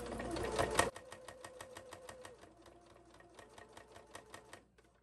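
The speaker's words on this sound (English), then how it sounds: "then sew down the other side" A sewing machine stitching down the side of a zippered fabric pouch, with a rapid even run of needle clatter close by that slows toward the end, after a brief louder rustle at the start.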